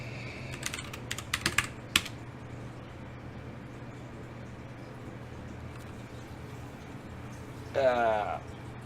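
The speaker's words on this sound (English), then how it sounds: "I'm sitting in front of all this typing I'm doing" Computer keyboard typing during Rust web development with Rocket and Diesel: a cluster of quick, close keystroke clicks is heard, followed by quiet room hum and a brief muffled burst near the end.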